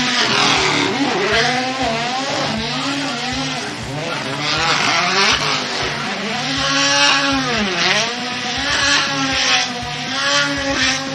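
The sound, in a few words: drift car engine with anti-lag at Okayama circuit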